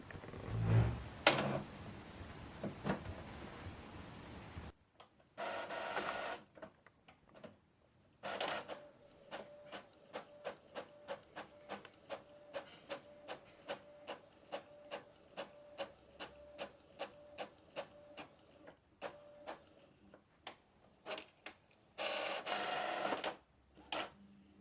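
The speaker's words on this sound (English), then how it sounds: "Now this document is going to print." An Epson EcoTank ET-3850 printer prints a document, opening with whirring paper feed, then a long run of rapid, even ticking print-head passes with a steady faint tone, and closing with more mechanical whirs. Quiet, with no talking.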